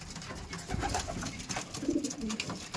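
Racing pigeons coo softly inside a loft, a few low murmuring calls over faint rustling and background noise.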